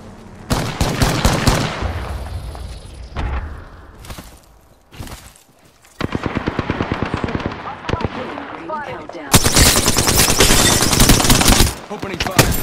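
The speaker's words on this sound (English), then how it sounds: "Opening fire. Shots fired, and they're taking him out." Automatic and rapid gunfire in the Apex Legends video game, loud dense bursts of shots with brief lulls, ending in a long sustained volley, with a voice speaking in between.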